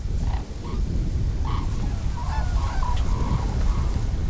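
A flock of cranes calls at a winter feeding ground in open fields, with scattered honking cries, some overlapping, heard at moderate distance over a low rumbling background.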